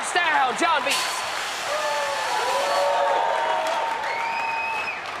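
Stadium crowd in Madden, a broad sustained roar of cheering and applause filling the space, with whistles and whoops rising over it and a commentator talking.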